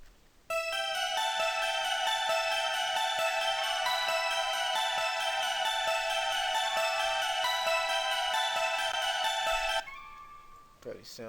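A simple synth melody from an FL Studio trap beat loops steadily for about nine seconds, bright bell-like notes in an even rhythm, played alone and fairly loud before cutting off.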